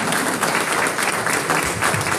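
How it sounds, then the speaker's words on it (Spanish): A crowd at a church gathering applauds with dense, loud, continuous clapping that fills the whole moment. "les pido que den un aplauso para los hermanos que van a"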